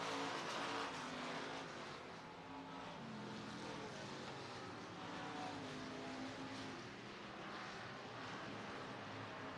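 Race cars roaring down the back straightaway into turns three and four on the Boone Speedway dirt track in Boone, Iowa, a steady, continuous engine drone at moderate distance with no speech.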